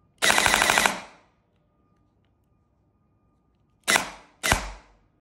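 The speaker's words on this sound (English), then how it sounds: "Pull the trigger 3 times in succession to complete the semi-programming." A Kestrel Basic V3 airsoft gun fires a fast burst of several rapid, loud, close shots, then two separate single shots after a pause of silence.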